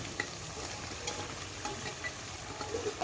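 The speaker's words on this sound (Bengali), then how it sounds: "এবার কুমড়োটাও মাংসের সঙ্গে বেশ কিছুক্ষণ ধরে কষিয়ে নেব।" Pumpkin pieces and chicken fry together in a pan, giving a continuous close hiss with small scraping clicks as the mix is stirred, and no voices.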